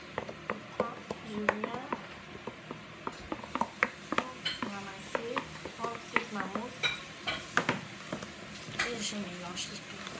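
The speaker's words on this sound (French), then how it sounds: "Je mélange tout." Vanilla waffle batter is stirred in a bowl with a utensil, giving a steady run of close clinks and scrapes against the bowl with soft wet swishes, while someone talks at times.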